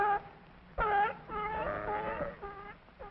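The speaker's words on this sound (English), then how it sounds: "S is for sea lion." Barking of a sea lion: several harsh, harmonic honks and groans in a short series, fairly close and loud, with brief pauses between calls and no speech.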